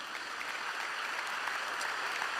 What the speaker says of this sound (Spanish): alabe a Jesús si quiere hacerlo con ese aplauso y dele gloria al Señor